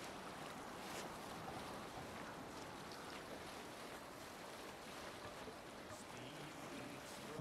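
A longship rides open sea in Assassin's Creed Valhalla, with steady wave wash, hissing spray and wind across the hull, faint and continuous without any voices.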